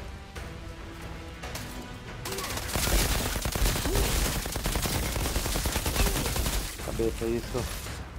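A grenade bursts in the Outriders shooter game: a loud, sustained blast and rumble amid heavy gunfire, with voices talking over the chaos.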